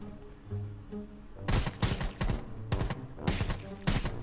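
Video game gunfire in bursts: after a quiet start, rapid volleys of loud, sharp shots crack in three clusters, close and dense, with brief pauses between them.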